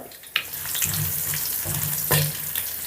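Dried red chilli pieces and cumin seeds sizzle loudly in hot oil, a steady crackling hiss with occasional sharper pops, continuous throughout with no talking.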